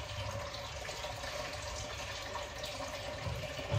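Water runs from a kitchen tap into a cooking pot, a steady, fairly quiet splashing rush.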